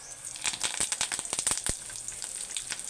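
Curry leaves dropped into hot oil with green chillies for lemon pulihora, spitting and crackling in a dense burst of sharp pops that thins out after a couple of seconds, close and fairly loud.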